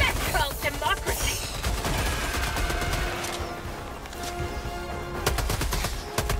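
A machine gun sentry in the video game Helldivers 2 fires rapid bursts of automatic gunfire amid battle noise and explosions. Bursts come dense at first, ease off, then return as sharp repeated shots near the end.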